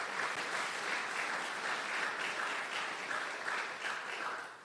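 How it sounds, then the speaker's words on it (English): Audience at a mobility technology launch event giving a round of applause, dense steady clapping from a crowd that carries throughout and tapers slightly at the end. "Can we just maybe give a round of applause for the people who came together?"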